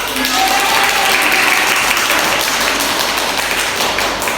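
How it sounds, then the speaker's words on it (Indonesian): A classroom of students claps together in dense, continuous applause, loud and close. "beri tepuk tangan dulu"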